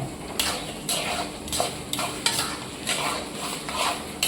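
Onions sizzling in a pan as ginger, garlic, green chilli, cumin and coriander paste is stirred in for a mutton and potato curry, with steady frying and rhythmic scraping of the spoon against the pan.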